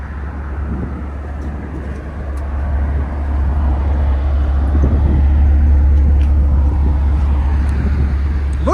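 A vehicle with a 7.3L gas V8 and a resonator delete rumbles steadily nearby as it backs up, a deep low drone that swells and holds louder through the second half.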